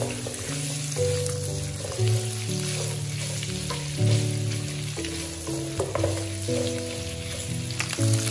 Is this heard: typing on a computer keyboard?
no